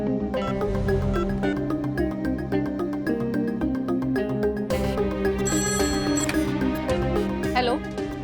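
A telephone ringtone chimes repeatedly in a steady melodic pattern over continuous background music, loud and close, with no speech.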